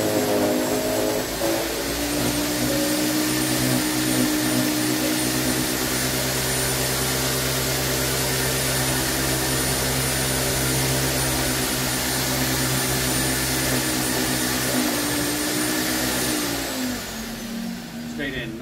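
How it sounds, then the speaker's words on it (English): An Earthwise GS70015 electric garden shredder runs continuously with a loud, steady, high-pitched whine and motor roar as branches are fed in, then the motor winds down near the end. "Let's fire this baby up."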